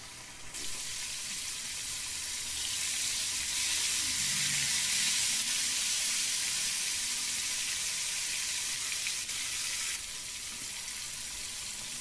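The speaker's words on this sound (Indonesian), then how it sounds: "ini ikannya dimasukkan dan digoreng sampai kering" Flour-dusted tilapia frying in hot oil, a steady loud hiss and sizzle that holds for the whole stretch, with no talking over it.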